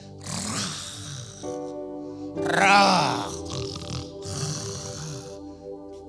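A voice imitates loud snoring, drawn-out rasping snorts and grunts repeated several times in a row, with a held musical tone sustained beneath them.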